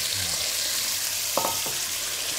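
Venison sizzles loudly as it sears in a large pot, a steady dense crackle throughout with a brief clink of a utensil partway through.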